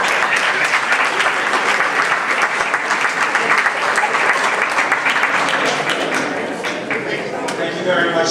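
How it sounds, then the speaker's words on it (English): Audience at a policy and advocacy forum applauding a panel, a full, sustained round of crowd clapping that holds steady for most of the clip and dips slightly near the end. "Let's give them a round of applause"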